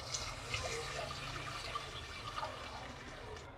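Water pours steadily from a glass into soaked rice for bagara rice, a soft continuous splashing and trickling that stays fairly faint and even throughout.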